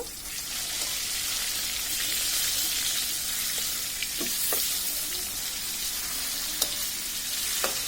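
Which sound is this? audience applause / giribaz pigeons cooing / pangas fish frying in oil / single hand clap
pangas fish frying in oil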